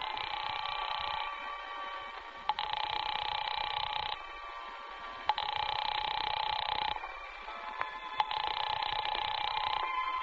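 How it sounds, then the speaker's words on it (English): Telephone ringing unanswered in a radio drama, three long electronic ring bursts separated by short pauses, clear and close with a faint background hum, no voices. "There's no answer. Shall I keep ringing, sir?"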